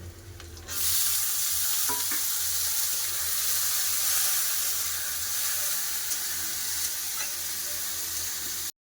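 Washed peas tipped into chillies and ginger frying in ghee send up a loud, steady sizzle that holds for several seconds, with a few faint scrapes of stirring and no voices.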